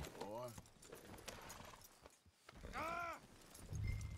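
Horse hooves clip-clop in Red Dead Redemption 2, a steady soft plodding under game sounds, with a voice or whinny-like call rising twice and a person talking.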